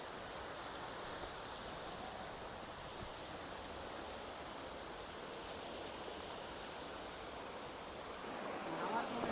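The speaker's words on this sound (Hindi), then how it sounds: "ये देखिए पंचधारा वाटरफॉल" The Panchdhara waterfall at Nandamali, a hilly natural spot, gives off a steady, soft rushing roar of falling water. It is heard from a distance as an even wash with no breaks.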